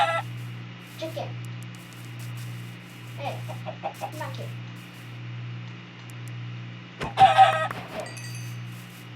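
Chickens in the Minecraft video game cluck repeatedly in short bursts over a low looping hum, with someone talking briefly in between.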